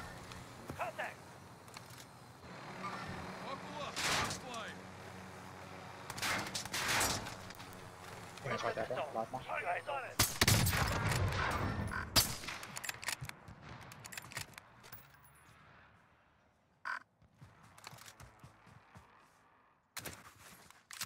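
Gunfire in the video game Warzone comes in scattered bursts and single shots of varying loudness, with a dense stretch of firing midway and quieter gaps between.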